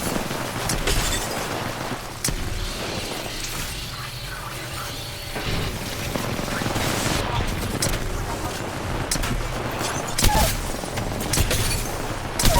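Gunfire in a Sparrow match of a shooter video game: scattered sharp shots and bursts with mechanical clicks over a busy, continuous game soundscape.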